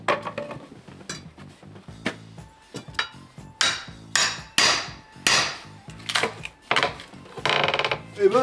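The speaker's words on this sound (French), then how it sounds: "vous utilisez ma méthode pied de biche avec le marteau, ce qui vous permettra de récupérer la plus grande longueur de planche" Repeated sharp hammer blows strike wood as a crowbar pries wooden pallet planks apart, with irregular knocks and creaks close by and a few brief pauses between impacts.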